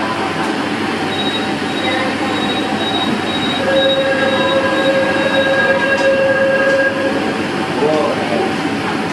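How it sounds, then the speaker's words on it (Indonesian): A commuter train rolls into a station in Indonesia with a loud steady rumble, high metallic wheel squeals rising over the noise as it slows. "Kereta tiba di stasiun Equestrian."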